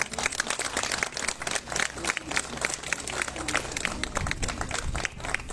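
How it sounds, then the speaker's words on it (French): A crowd applauding steadily throughout at a prize-giving ceremony for Christmas illumination and nativity scene contests, dense clapping with a few voices mixed in, fairly loud and sustained. "On peut les applaudir très fort."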